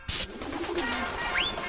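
A pigeon cooing in the game Jazzpunk, a short low warbling coo after a brief burst of noise, followed by a quick high rising chirp near the end.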